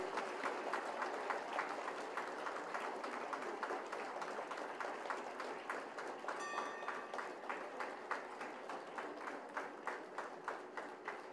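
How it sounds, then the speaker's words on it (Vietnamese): Audience at a Hanoi pagoda claps in welcome for the Indian Prime Minister, a sustained, even patter of many hands in a reverberant hall, moderately loud and without talk. "trang nghiêm một tràng pháo tay để chào đón Ngài Thủ tướng Ấn Độ Narendra Modi"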